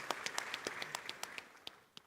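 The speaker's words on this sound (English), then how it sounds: "Please give him a round of applause." Audience applause at an awards ceremony during a bank's annual meetings, a brief burst of sharp individual claps that quickly thins out to a few scattered hand claps.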